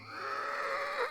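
A horse whinnies in reply, a single sustained neigh about a second long with a wavering pitch that dips and rises at the end, close and fairly loud with no talk over it.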